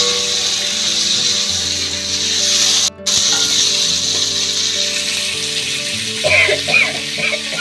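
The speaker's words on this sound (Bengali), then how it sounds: "এবার আমি আলুগুলো দিয়ে দিচ্ছি।" Potatoes sizzle steadily in hot oil in a pan, a loud continuous frying hiss with a brief break midway and some light stirring or scraping near the end.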